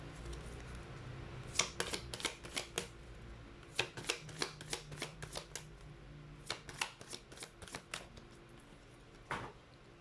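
Playing cards shuffled for a card reading, crisp riffling bursts in several quick clusters with short pauses between, close and fairly quiet, with no talking.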